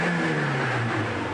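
A hot Saab 900 turbo engine with the throttle booted hard, a brief rising rev that climbs in pitch over about a second, loud and close.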